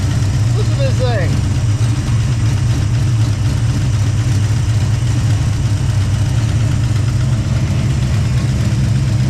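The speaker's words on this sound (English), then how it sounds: "They're idling, man. It sounds good." A car engine idles steadily and close throughout, a low rumbling drone with a faint rise early on, while people talk over it.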